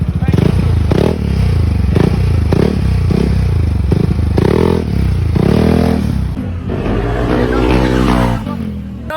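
Yamaha XMAX 300cc motor scooter with a super stock engine revs loudly and close in repeated rising bursts, about six throttle blips followed by a longer climbing rev near the end.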